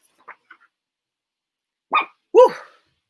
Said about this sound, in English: the dog is kind of acting a little crazy over here